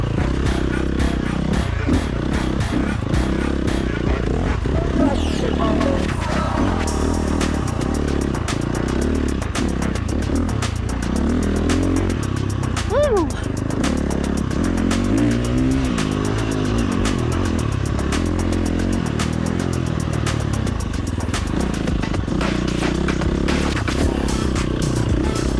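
A 2011 motocross bike, not an enduro model, running on an aftermarket ECU, its engine revving and roaring loudly and continuously up close with clattering and rattling throughout.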